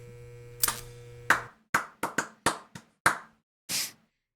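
Several sharp hand claps, irregularly spaced and close, following a brief tone, with a softer clap at the end.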